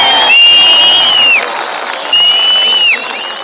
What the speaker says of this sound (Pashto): د ده دپاره ډېرې چکچکې